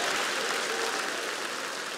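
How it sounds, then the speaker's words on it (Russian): A studio audience at a televised comedy league game applauds a contestant, a thick, continuous hiss of many hands clapping at once, loud and unbroken for the whole moment. "Аплодисменты Марку"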